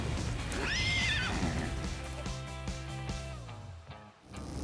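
Horses whinny in the Ark video game, one long rising-and-falling neigh near and loud, followed by shorter whinnies and snorts over a steady game background bed.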